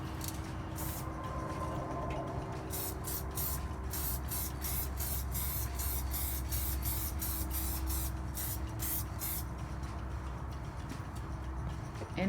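Aerosol spray paint goes over a stencil in a run of short, sharp hissing bursts, close and fairly loud over a low background rumble, with brief gaps between presses.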